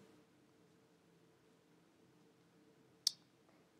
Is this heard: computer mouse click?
yes